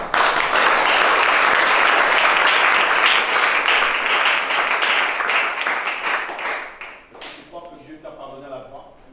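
Congregation clapping and applauding God during a deliverance church service in Gabon, a dense, sustained wash of hand claps that tapers off toward the end, with voices mixed in.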